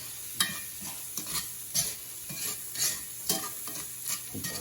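Seasoned shrimp stirred in a frying pan, a spatula scraping in a regular rhythm of close strokes over a steady sizzle.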